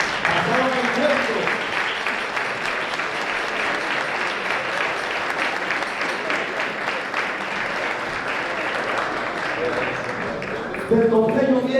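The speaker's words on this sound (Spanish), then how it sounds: "otro aplauso para los leoneses que bien pasaron el tiempo" Audience applause fills a Christmas music festival hall in Asturias after a group from León performs, with sustained, dense clapping throughout and a brief swell near the end.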